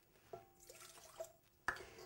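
Half a cup of water poured into a bowl of eggs and melted butter for buñuelos, heard as a few soft splashes and drips, with a sharper splash near the end.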